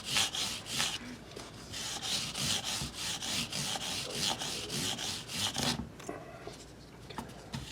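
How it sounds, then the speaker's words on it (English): Guitar fret ends on a Yamaha MG-MIIG are rubbed with a ZIMM'S microfiber polishing pad, giving quick rhythmic back-and-forth scrubbing strokes, close and soft, then slowing near the end. "take one of these ZIMM'S polishing microfiber pad"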